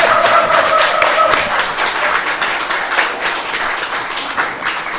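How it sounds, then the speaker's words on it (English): A small group at a city commission meeting claps in a brief round of fairly close, uneven handclaps that thin out over about five seconds. "Now you give a clap."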